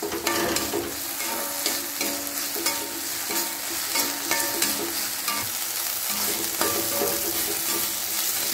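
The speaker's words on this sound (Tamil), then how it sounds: "கத்திரிக்காய் வதங்கி பாருங்கள்." Eggplant sautéing in a pan for chutney gives a steady, close sizzle and frying crackle, with repeated scrapes and stirs of the spoon throughout and no talking.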